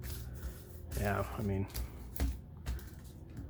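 Yu-Gi-Oh Blazing Vortex first edition booster packs being shuffled by hand, a few quick crinkly rustling bursts close up, with someone speaking briefly over them.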